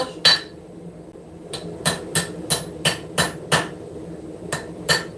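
Cross peen hammer ringing on the integral bolster section of an anvil, about ten sharp metallic strikes, mostly in a steady series with short gaps, loud and close.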